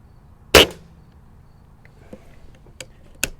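A Diana Bandit air pistol fires one sharp, close crack, followed by a few faint metallic clicks and light taps in a quiet setting.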